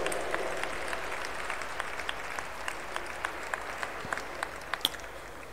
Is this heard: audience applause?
yes